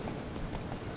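Horse hooves clip-clop in a steady rhythm in The Witcher 3, a continuous, moderately close trot over a low ambient bed for about a second.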